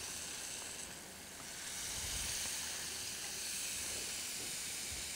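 Water poured into a hot pan of raw mango mixture for a Gujarati kachi keri garmanu, giving a steady close steam hiss that swells midway and continues throughout without speech.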